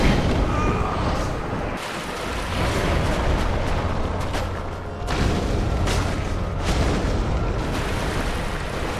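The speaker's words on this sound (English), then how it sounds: "Oh god, he's exploding again, bro!" Loud, dense explosions from an enemy blowing up in a video game, with booming bursts filling the clip and a renewed blast about halfway through.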